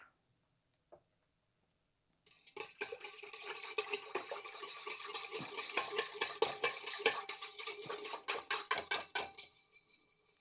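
A mixture being stirred in a bowl, with continuous scraping and clinking strokes that start abruptly and keep a busy, close, steady rhythm to the end, no talk over it.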